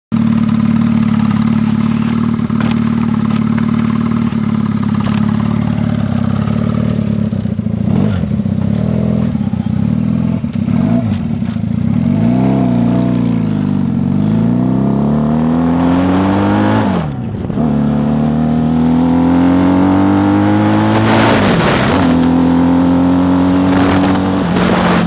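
A 1971 Honda CB175 motorcycle engine, loud and close, idling and then revving and shifting through gears while riding, with repeated rising and falling pitch sweeps over about twenty-five seconds.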